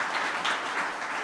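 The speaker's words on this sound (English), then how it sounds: "if everyone could give Reggie a great round of applause" An audience gives a round of applause for Reggie Bush, a steady, dense wash of clapping lasting a little over a second at moderate level with no voices over it.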